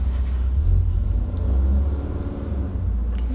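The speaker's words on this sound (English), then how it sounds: "Don't mind the truck going by." A truck drives by outside, a low rumbling engine that swells and fades through a room, steady and fairly loud with no voices.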